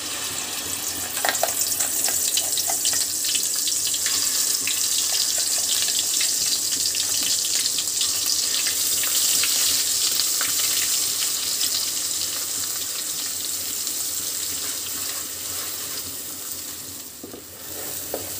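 Ground masala paste frying in hot oil for a village-style mutton rassa, a steady loud sizzle with bright crackling and scraping stirs that continues throughout, no talk.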